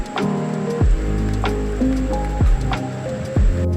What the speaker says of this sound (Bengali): এবার ভালো করে নেড়ে দিচ্ছি, মশলাটাকে কষিয়ে নিচ্ছি।